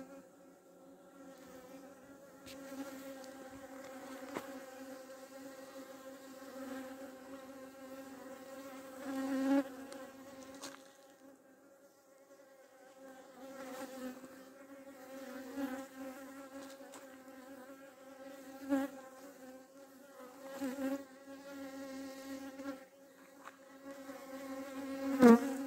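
Honeybees buzzing around beehives in a bee alley, a steady layered drone of many wings close by, swelling and fading in short bursts with no talking.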